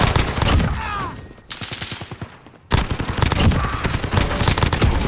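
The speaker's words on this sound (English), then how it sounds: "I'm using my sniper now" Sniper rifle gunfire in Call of Duty: Modern Warfare multiplayer: loud sharp gunshots and rapid bursts with reverberant battlefield noise, a quieter stretch with rhythmic thumping, then a sudden loud shot resuming dense firing.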